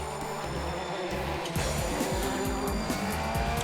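Peugeot rally car driven by Richard Burns on an asphalt stage, its engine note roaring steadily throughout with rising pitch and a brief tire squeal, loud and close with no talk.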